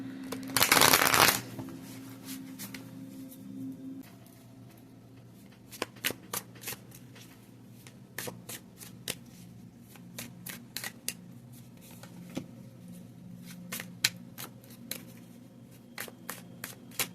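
Tarot cards shuffled in a loud riffling burst, followed by sparse, sharp taps and clicks as the deck is handled and cards are laid down, close and quiet between sounds.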